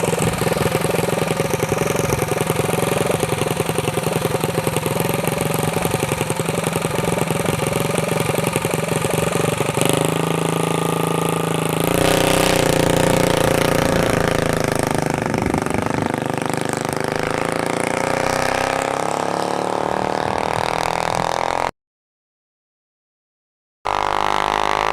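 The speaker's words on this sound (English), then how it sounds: "And we got a mini bike. Got like a little junior dragster motor." A mini bike fitted with a small junior dragster motor idles at a dragstrip test-and-tune session, a steady loud mid-pitched chug that shifts in tone partway through before a brief drop to silence near the end.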